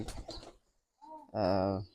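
A pure-blood Shiyalkuti pigeon gives one short, close, tonal coo after a brief muffled voice and a pause.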